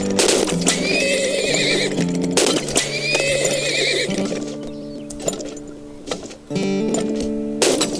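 Horses in the oil-tycoon game Turmoil, two loud close neighs in quick succession followed by softer whinnies and clip-clop hoof sounds, with no talk.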